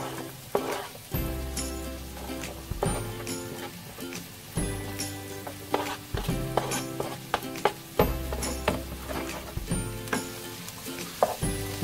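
Onion and garlic sizzle steadily in a hot pan, broken by repeated stirring scrapes and clinks at a loose rhythm, close and fairly loud over soft music.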